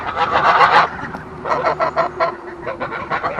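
Ducks on a homestead call in loud, honking bursts, a dense run of overlapping calls followed by a string of shorter, choppy calls close by.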